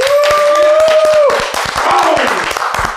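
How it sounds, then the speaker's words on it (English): Audience clapping in a loud, tightly rhythmic beat of hand claps at a hip-hop event, steady throughout while a sustained tone fades out early. "Everybody start clapping right now."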